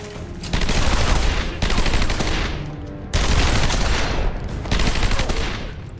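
Sustained bursts of rapid gunfire from the Batman Arkham Asylum video game, loud and dense, pausing briefly around the midpoint before resuming just as heavily, with no voices over it.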